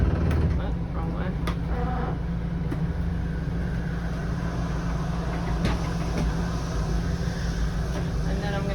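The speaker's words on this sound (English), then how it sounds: "And I'm going to put this slide out." A slide-out on a 2022 Rockwood fifth wheel RV extends, its motor giving a steady, droning hum with faint clicks that continues unbroken for several seconds at close range.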